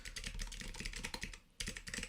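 Quick, steady typing on a computer keyboard while filling in a web form field; dense, close clicks run continuously and pause briefly before resuming.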